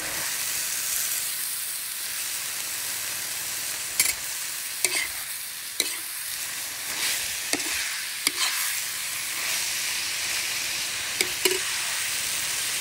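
Bitter gourd (ampalaya) stir-fried in a pan, giving a steady bright sizzle with scattered scraping clicks from the spatula at irregular intervals, close and alone.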